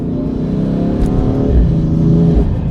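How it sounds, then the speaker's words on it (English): British Racing Green BMW F80 M3 with an M Performance exhaust revving up close, a loud steady engine roar that climbs and holds for a few seconds, with no talking. "It's got an M Performance exhaust, so you've got nice roar from the back"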